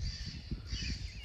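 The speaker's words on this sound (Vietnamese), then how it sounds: "That's a speaker over there to scare birds away." Crow-like cawing broadcast from a bird-scaring loudspeaker at a mountain fruit farm, repeated harsh calls sounding fairly distant over steady low outdoor rumble and wind.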